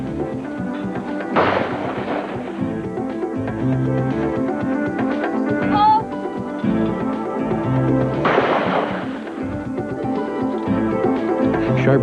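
Two loud shotgun blasts at a sporting clays range, about seven seconds apart, each a sharp crack with a short decay, heard over steady background music.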